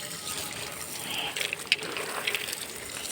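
Water pours and splashes while adenium plants are watered outdoors, a steady gushing stream with a few brighter spatters, close and moderately loud, with no talking.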